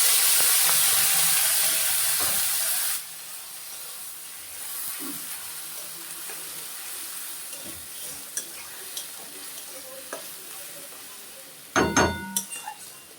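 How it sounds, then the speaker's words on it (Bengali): A paste of onion, ginger, garlic and green chilli frying in a pan, first as a loud hissing sizzle that drops to a quieter steady fry, with scattered stirring scrapes and a clatter of utensils near the end. "এখানে পেঁয়াজ আদা রসুন কাঁচা লঙ্কা পেস্ট দিয়ে দিলাম"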